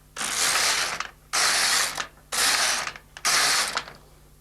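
LK150 knitting machine carriage sweeping across the needle bed to knit stitches, four loud, close mechanical ratcheting passes of about a second each with short pauses between them.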